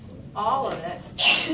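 A single sharp sneeze bursts out near the end of a classroom math review session, loud and close, right after a stretch of a person talking.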